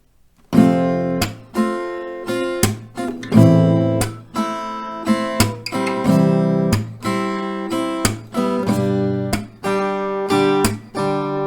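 Acoustic guitar strums chords at a slow, even pace, each bright strum ringing and fading before the next, loud and close with no voices.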